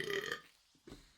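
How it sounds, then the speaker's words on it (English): A single short, close, low burp comes from a person, followed by a faint breathy sound. "Sorry, I keep burping."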